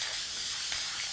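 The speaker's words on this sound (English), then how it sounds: "It's a great thing about using spray paint." A can of gold spray paint hisses in a steady, soft, continuous spray at close range, with no voices.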